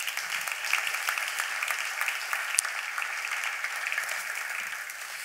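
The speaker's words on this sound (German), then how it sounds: "Wenn ja, das ist ein Applaus." A hall audience applauds steadily at the 2019 triathlon awards ceremony as a lifetime award speaker is introduced, with dense, sustained clapping that stays loud and even throughout.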